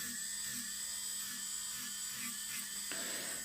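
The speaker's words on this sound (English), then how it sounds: "just basically just filing off a bit more of the bulk because there is quite a thick layer of base coat on the nails" Electric nail file buffing down a thick layer of base coat on nails, a steady high-pitched whine running continuously with a slight shift in tone near the end.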